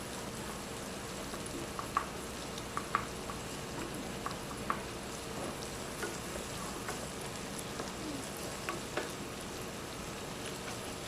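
Onion sautés in a pan with a quiet, steady sizzle and occasional small pops and crackles, alone with no talk.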